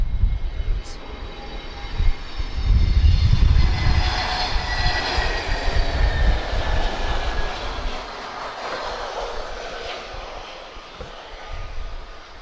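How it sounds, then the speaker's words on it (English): An Airbus A321neo arriving at Lisbon Airport, a loud broad jet-engine roar that swells early and slowly fades as the aircraft passes, heard alone without talking. "That's an A321neo, peaceful livery."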